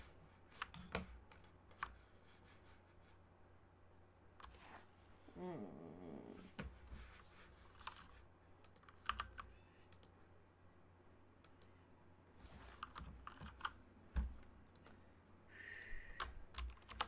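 Typing on a computer keyboard, a quiet run of irregular key clicks scattered across the stretch with a few louder taps, close by over low room noise and occasional faint speech.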